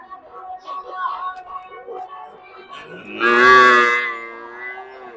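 At a cattle market in Pileru, a person talks at first, then a cow lets out one loud, drawn-out moo close by, with other voices and animals faint in the background.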